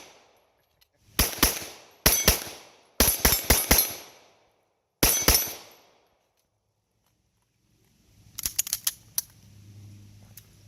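Pistol shots in 9mm minor ringing off steel targets on a range: sharp, loud cracks in quick groups of one to four, with pauses between groups. A final cluster of fainter cracks follows, under low background noise.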